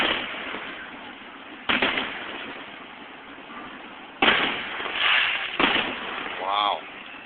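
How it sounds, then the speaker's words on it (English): Fireworks bursting over Niagara, three sharp booms spaced a few seconds apart against a steady background rumble, with a crackling trail after the last, heard at a distance while people nearby talk. "Holy fireworks."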